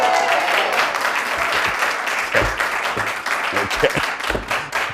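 A television studio audience claps, a dense, loud patter of many hands sustained throughout, with a brief spoken word over it.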